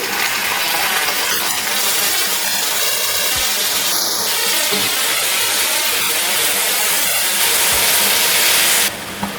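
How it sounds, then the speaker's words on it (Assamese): Water poured into a pan of jujube pickle cooking with jaggery and spices sets off a loud, steady sizzling hiss that continues for several seconds before cutting off. "এতিয়া মই ইয়াত দি দিম অকণমান পানী।"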